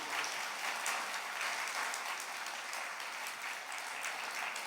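A congregation at a church talk claps hands together in praise, a sustained broad wash of applause from many people, steady and somewhat distant, with no single voice standing out.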